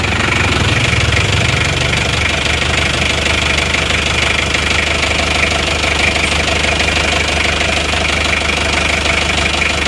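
An Isuzu Panther 2.3 diesel engine idles while warm, heard from beneath the car near the exhaust, giving a loud, steady, dense rumble with a continuous rattling knock and no talking.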